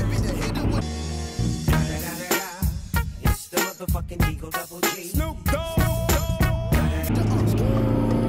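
BMW E36 engine revving and running while overtaking on the road, loud and close, with gear changes and someone talking over it.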